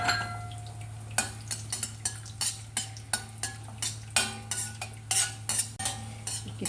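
Raisins frying in a kadai for carrot halwa, stirred with a metal spoon: a steady run of scraping strokes and light clinks against the pan, close by over a low constant hum.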